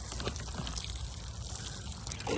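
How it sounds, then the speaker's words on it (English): Liquid magnesium and sulfur mix poured onto the soil of a garden bed, a steady close splashing trickle with no talking. "I am just pouring it on like that."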